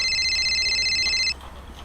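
A telephone rings with a steady, high electronic tone lasting a little over a second and then cuts off. Only faint room noise follows.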